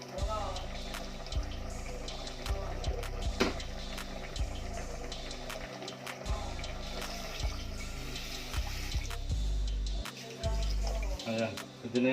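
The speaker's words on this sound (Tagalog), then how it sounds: "lagyan natin tubig" Water poured into a cooking pot of kinamatisang manok, chicken stewed with tomatoes, a steady splashing, gurgling pour over clattering kitchen sounds, fairly close and continuous.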